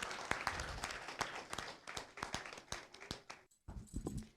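Audience at a singing competition grand finale claps as a guest is called to the stage, sharp irregular claps and taps at varying loudness, with a brief gap of near silence before the clapping resumes.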